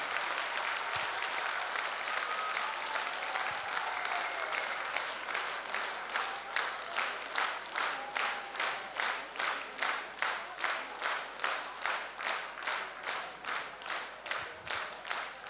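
Audience applause welcoming a folk ensemble of Armenian ashugh musicians to the stage, a sustained steady wash of clapping at moderate distance that grows into more distinct, rhythmic claps toward the end.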